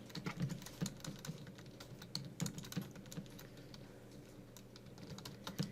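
Someone types on a computer keyboard while writing C++ code. The key clicks are quiet and close, in irregular quick bursts with short pauses, and no one speaks.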